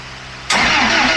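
A Toyota Hilux engine cranks with a sudden loud starter whir that fails to catch, the fuel pump suspected faulty, heard close and alone.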